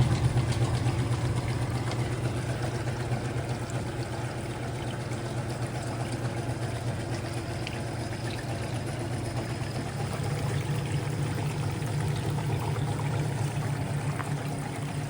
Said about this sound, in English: And now we've got water running into all of our chutes.